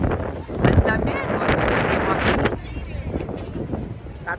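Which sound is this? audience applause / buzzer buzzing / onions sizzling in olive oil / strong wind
strong wind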